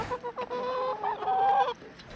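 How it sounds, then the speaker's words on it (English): Chickens clucking in an enclosure on a lavish private estate, a short burst of overlapping close cackles and clucks lasting about a second and a half, with no talking. "There are chickens in there"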